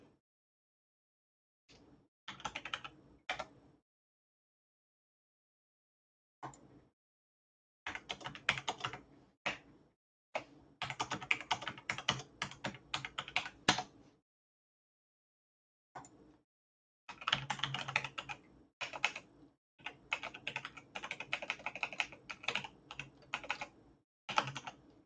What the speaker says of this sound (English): start typing remote